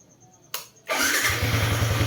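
A Yamaha Sniper 155 motorcycle engine cranks with a short starter whir, then catches and settles into a loud, steady, close idle with no one talking.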